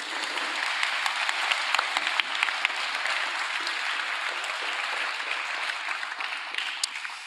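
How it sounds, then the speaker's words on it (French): Sustained audience applause in a hall for a prize winner at an award ceremony, dense and even clapping that carries on steadily throughout with no speech over it. "on peut l'applaudir encore une fois s'il vous plaît"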